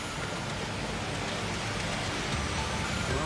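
Heavy rain pours down over a flooded low-lying area, a dense, loud and unbroken hiss of falling water and splashing drops that fills the whole scene without any voices.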